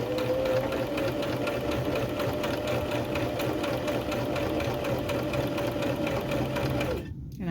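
A sewing machine runs two rows of gathering stitches down a skirt, a steady close-up motor whir that holds without pause for about seven seconds before stopping abruptly.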